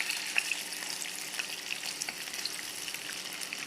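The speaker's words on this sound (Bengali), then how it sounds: "এটা আমি আলুটাকে লাল লাল করে ভেজে নেব।" Potatoes frying in oil in a home kitchen for a chicken dish, a steady close sizzle with small pops and spatters throughout, no voices.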